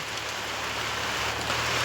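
Heavy rain pours down across a village in a dense, steady hiss. It stays even and loud throughout, with no voices.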